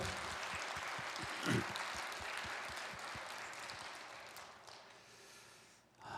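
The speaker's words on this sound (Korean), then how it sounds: "우리 박수로 감사의 마음 전할까요?" A church congregation at Sunday worship applauding in thanks to the worship team and volunteers: a faint, steady wash of many hands clapping, heard from a distance for several seconds.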